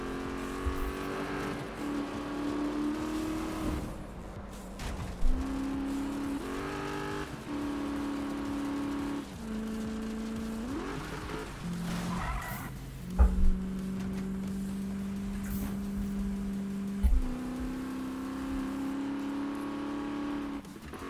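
A car races off-road in Need for Speed, its engine droning and shifting pitch through gear changes and revs, with occasional thumps and bumps from rough ground over a steady rumble.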